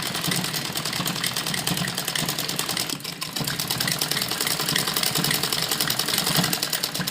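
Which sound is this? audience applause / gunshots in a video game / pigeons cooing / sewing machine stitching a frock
sewing machine stitching a frock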